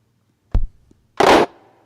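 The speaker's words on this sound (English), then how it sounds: "I got an alternative like 808 kick drum with some claps" An electronic 808 kick drum gives a short, punchy thump, followed after a brief gap by a longer, noisy clap burst, both close and loud against near silence.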